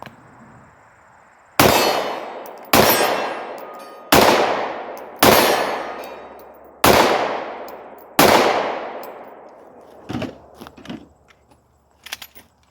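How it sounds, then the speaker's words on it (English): Six loud, sharp pistol shots from a Sig 320 M18 fired one-handed at 50 feet, each followed by a ringing decay, spaced about a second apart, then faint metallic clinks and handling. "Okay, so again, in my left hand, shooting one-handed at 50 feet."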